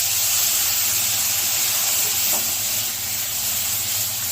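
Water poured into frying semolina halwa with nuts, a loud, close burst of hissing steam and sizzle that holds steady and eases slightly toward the end, with no talking.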